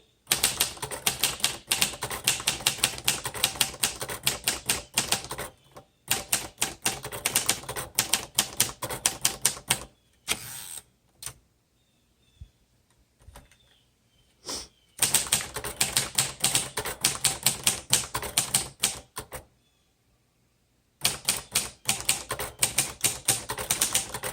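Rapid mechanical keystrokes from a 1956 Royal Quiet De Luxe manual typewriter clatter in bursts of steady typing, broken by short pauses and a couple of longer silences; no voices.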